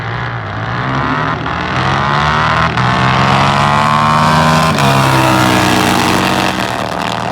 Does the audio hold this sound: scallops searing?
no